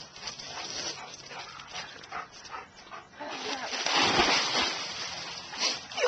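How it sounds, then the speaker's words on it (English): Puppies splashing while swimming in muddy water, with a dog whimpering and irregular splashes and sloshing that swell louder midway, heard fairly close. "You like when those puppies go swimming?"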